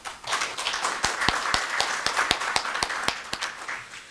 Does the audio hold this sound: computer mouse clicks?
no